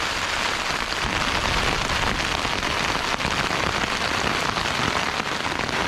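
Hail falls hard in the English mountains, a dense, unbroken pattering roar that stays loud and even throughout with no voices.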